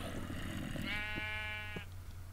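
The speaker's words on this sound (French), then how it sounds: "On va regarder ce mouton qui nous troll." A sheep in Minecraft lets out a single wavering bleat lasting about a second, fairly close and distinct over a constant low background hiss.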